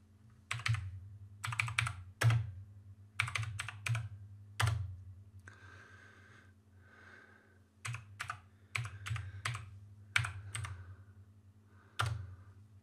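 Keys clack on a HAVIT mechanical gaming keyboard with RGB lighting, coming in quick bursts of sharp, fairly loud clicks, separated by brief pauses and a faint low hum.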